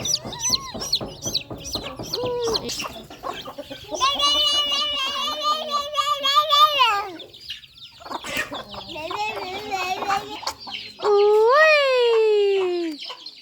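Chickens cluck and crow close by in several loud bursts at evening feeding time, with a voice mixed in.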